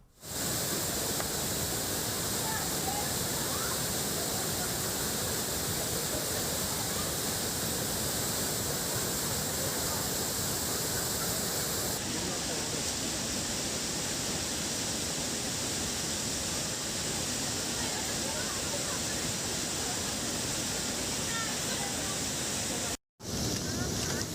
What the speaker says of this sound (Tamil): தருமபுரி மாவட்டம் காவிரி நீர்பிடிப்பு பகுதிகளில் பெய்து வரும் கனமழையால் ஒகேனக்கல் அருவியில் வெள்ளப்பெருக்கு ஏற்பட்டுள்ளது